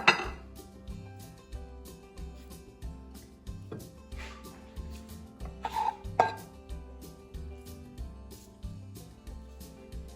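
Potato puri filling with added coriander is mixed in a metal bowl, a close series of rhythmic clinks and scrapes of a spoon against the vessel repeating throughout.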